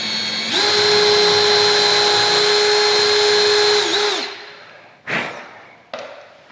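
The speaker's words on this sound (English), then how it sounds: "take note of how far our drill needs to go in" A power drill bores into a door, revving steadily for about four seconds with a high whining tone, then winding down, followed by two short bursts as the trigger is blipped again.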